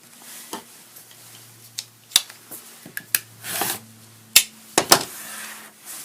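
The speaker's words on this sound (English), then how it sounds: "we're going to trim this edge off right here" Quilting fabric is trimmed along its edge with a series of sharp, close cutting snaps and scrapes at an irregular pace, with quiet pauses between them.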